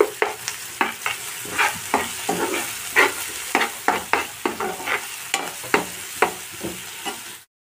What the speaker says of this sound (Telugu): ఈ అల్లం వెల్లుల్లి పేస్ట్ కూడా పచ్చివాసన పోయేంత వరకు మంచిగా ఫ్రై చేసుకోవాలి.